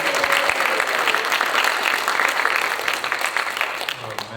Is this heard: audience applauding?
yes